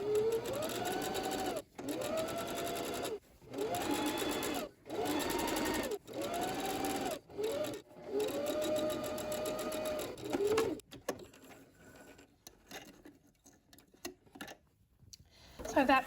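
A sewing machine stitches a straight center line on wrap pants in a series of close, even bursts separated by brief pauses, then falls quieter with scattered light clicks toward the end.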